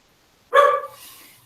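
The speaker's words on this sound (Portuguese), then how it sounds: "É galinha, cachorro latindo, assim o dia inteiro" A single sharp dog bark rings out close by against silence, then fades into a short trailing echo, with roosters and household sounds of a rural home setting around.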